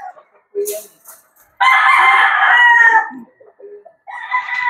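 Boston Roundhead gamefowl roosters crowing, one long loud crow dominating the middle with shorter clucks and calls around it and another crow starting at the end.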